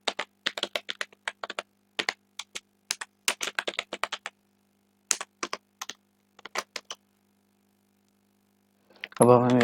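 Code goes in on a computer keyboard with sharp, close key clicks in irregular bursts and short pauses over several seconds, then a voice starts speaking at the end.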